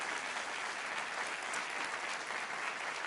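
An audience at a Socialist Party rally in Leganés claps steadily, a dense, even applause that holds at a constant level from start to finish.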